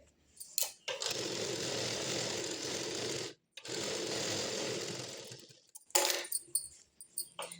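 A sewing machine stitches a border onto patiala pants, running in two long steady whirring stretches with a short pause between them, then a few sharp clicks and clatters at the end, close up and without speech.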